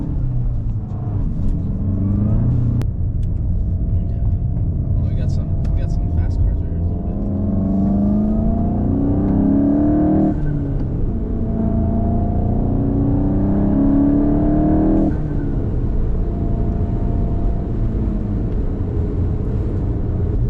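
A manual VW Golf Mk8 GTI drives at a steady engine drone, its revs rising and dropping through repeated gear changes, with a few abrupt jolts, as someone talks inside the car.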